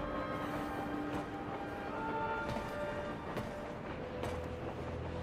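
A moving train in the video game Final Fantasy 7 Crisis Core Reunion, a steady loud rumble and rattle of rail cars with tonal whines and occasional clacks, continuous throughout and with no voices.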